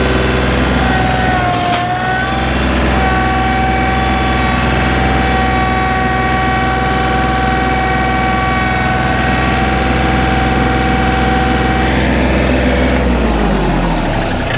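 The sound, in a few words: tractor engine running while tilling dry ground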